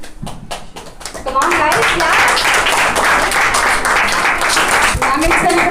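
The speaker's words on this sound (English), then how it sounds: "Come on guys, clap." An audience claps at a monthly rewards and recognition ceremony, with a few scattered claps at first quickly building into dense, sustained applause that carries on steadily to the end.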